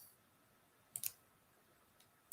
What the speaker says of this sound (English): I'm just typing this in real quick.